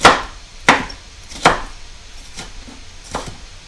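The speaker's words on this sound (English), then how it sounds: "keeping your fingers down like this whenever cutting" Kitchen knife chopping vegetables on a cutting board, five distinct sharp chops spaced roughly evenly apart, close and fairly loud with quiet gaps between strokes.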